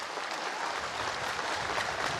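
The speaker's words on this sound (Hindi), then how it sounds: "जोरदार ताली बजा करके स्वागत करो।" A crowd at a Mahashivratri gathering of Sanatan Manch claps steadily in sustained applause, a dense, even wash of hand claps at moderate volume with no voices over it.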